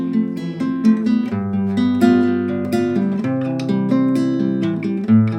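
Acoustic guitar strummed in an alternating down-and-up pattern, demonstrating the upstroke finger technique; steady close chords ring out continuously with regular strum accents and no talking.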